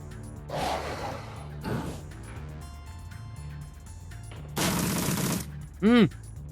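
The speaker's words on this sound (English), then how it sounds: "That was a lot of shots." Rapid gunfire in the video game Shadowrun: Dragonfall comes in several short bursts, the longest a dense rattling volley near the end, followed by a brief ringing ricochet-like tone.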